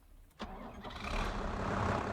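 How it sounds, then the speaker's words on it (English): A tractor engine in a farming simulation video game sputters and cuts out, then rumbles on as a steady mid-pitched drone that grows gradually louder, with no talk. "It's my engine cutting out again."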